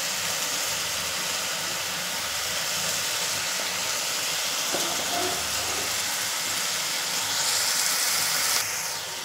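Spices sautéing in hot oil for a Marathi clam curry (shimplyancha rassa), a steady broad sizzling hiss that holds evenly throughout and rises slightly near the end.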